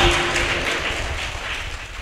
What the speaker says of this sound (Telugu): ఇప్పుడు దేవుడికి గట్టిగా చప్పట్లు కొడుతూ స్తోత్రం చెప్పారు